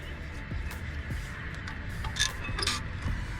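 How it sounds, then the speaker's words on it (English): A flathead screwdriver prying rear brake pad clips off a 2016-2019 Hyundai Sonata makes soft metallic scrapes, small clicks and creaks up close, with a light snap near the end. "we got these clips we're gonna need to pull off. I use my flathead screwdriver here."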